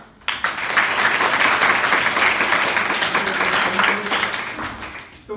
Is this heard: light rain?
no